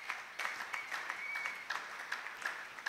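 Rhythmic applause from a church congregation, fairly distant and moderate, with regular clap accents running steadily through the clip under faint voices.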